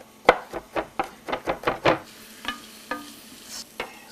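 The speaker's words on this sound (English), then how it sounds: "Get an onion in there, and we're going to get that going until it gets fragrant." Onion and minced garlic cook in a pan under a light sizzle, broken by a quick run of close utensil taps and scrapes, then a few spaced knocks.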